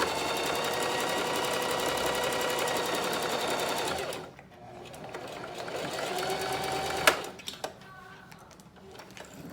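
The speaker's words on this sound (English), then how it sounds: "Sew the same thing down, sew down, make sure they meet." A sewing machine stitches fabric in a fast, steady whirring run, stops, then resumes briefly with a few short bursts and clicks near the end.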